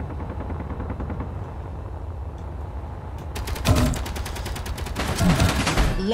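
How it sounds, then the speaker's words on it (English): Weapons firing in the space game Space Engineers, a quiet rumbling stretch followed by bursts of rapid, loud automatic gunfire with sharp repeated cracks in the second half. "let's just continue firing on this until hopefully I can manage to do some damage"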